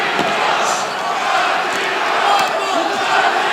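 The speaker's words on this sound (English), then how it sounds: "listen to the crowd here" A packed boxing arena crowd in Riyadh roars continuously through the final round of Vergil Ortiz against Israil Madrimov, a loud sustained wall of cheering and shouting with voices mixed in.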